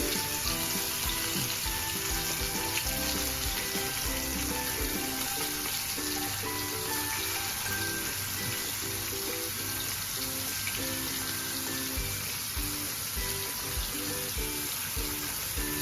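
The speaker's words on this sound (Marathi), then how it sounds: "आता आपण ते स्लो गॅसवर मस्त तळून घेणार आहोत।" Pieces of bombil, Bombay duck, fry in oil over a low flame, giving a dense, continuous sizzle like rain, steady and close with no speech.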